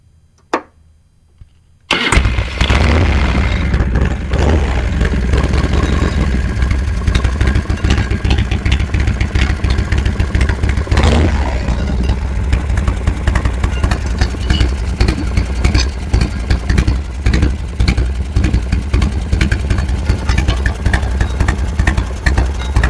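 Motorcycle with an S&S carburetor is being adjusted. After a couple of clicks, it starts abruptly and runs loud and close, with a steady rough idle that pulses and revs for the rest of the clip, with no talking.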